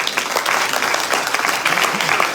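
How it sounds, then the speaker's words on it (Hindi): Audience clapping at a Hindu religious discourse on the Devi Bhagwat Mahapuran, a steady, dense wash of applause from a gathered crowd lasting throughout, moderately loud with no pauses. "एक बार जोरदार तालियां।"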